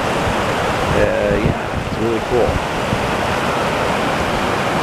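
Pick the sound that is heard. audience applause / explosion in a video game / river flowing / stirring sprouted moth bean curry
river flowing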